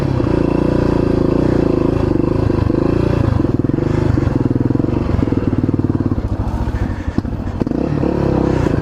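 A Yamaha XT600 dual-sport motorcycle, stranded in the bush, runs with a loud, close single-cylinder thump that idles and revs unevenly, sputtering and faltering near the end.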